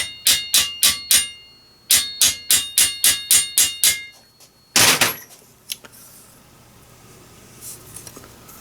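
A small hammer taps a brass rivet into a scratch-built Gauge 1 live steam model locomotive, ringing out in two quick runs of sharp metallic strikes, followed by a heavier clank and quieter fading sounds.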